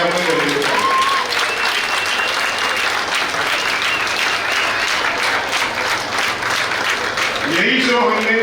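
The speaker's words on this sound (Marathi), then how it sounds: "नितीन पाटील आणि संगीता नितीन पाटील यांच्यासाठी जोरदार टाळ्या आपण बोलवू." A crowd at a Ganapati festival gives sustained, loud applause for two performers, with brief voices at the start and end.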